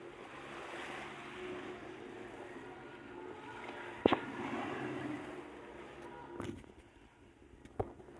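Steady wash of surf rolling onto the shore, broadband and continuous, with a few sharper splashes breaking through and light wind noise.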